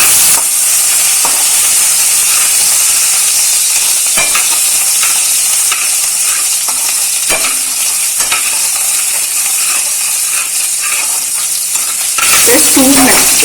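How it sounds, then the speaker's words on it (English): Garlic and ginger sizzle loudly in hot oil, a dense steady crackle with occasional sharper pops and stirring scrapes, the frying changing character near the end as something more is added; no one speaks. "when we add the garlic and the ginger to the oil first, it gives you a nice flavor"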